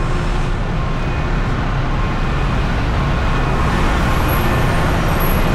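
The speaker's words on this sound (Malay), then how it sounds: "bising bunyi kereta, kenderaan" Rush hour road traffic roars along a busy Bangkok street, a steady wash of car and bus engines with tyre noise close by and a faint high air-brake hiss near the end, with no speech.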